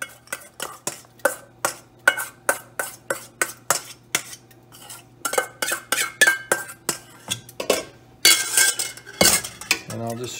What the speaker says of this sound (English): And I'll just stir that in.